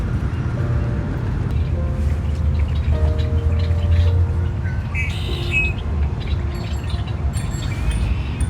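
Outdoor birds chirp and tweet in short scattered calls, fairly faint beneath a steady rumble of wind and distant background noise, with a few brief tonal hums.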